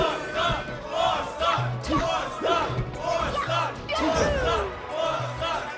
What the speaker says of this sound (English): the crowd is cheering for a four stock